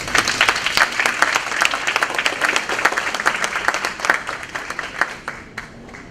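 Audience applause for student presentations at a school showcase, many hands clapping close and lively with a slightly uneven rhythm, trailing off at the end.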